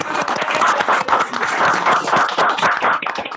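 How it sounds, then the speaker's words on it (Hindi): Participants on a group video call clap together after being unmuted, a dense burst of overlapping applause sustained throughout, slightly compressed and uneven as many remote microphones mix. "एक बार जोरदार क्लैपिंग तो होना चाहिए इनके लिए ना"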